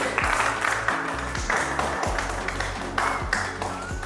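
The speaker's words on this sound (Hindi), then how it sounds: "तालियां नहीं रुकनी चाहिए गाइस" Audience clapping after an open mic performance, a loud close patter of hands with a few sharp thumps, heard over a low, steady hum.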